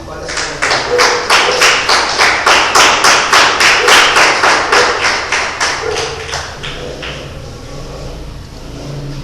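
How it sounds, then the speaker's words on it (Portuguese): A church congregation claps in unison during a lively evening worship service, loud regular beats at a quick steady rhythm that continue for about six seconds before thinning out, with faint background murmur underneath. "E as palmas são bem alegres para Jesus."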